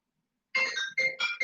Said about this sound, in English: And there goes that dang on phone again